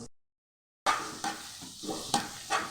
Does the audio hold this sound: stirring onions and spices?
yes